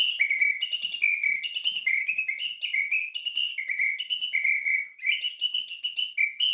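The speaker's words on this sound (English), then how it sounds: "It's called an apito. So it's a special fancy whistle" An apito samba whistle blown in a lively rhythmic pattern, alternating two shrill trilled pitches in quick repeated bursts, close and loud with no talk.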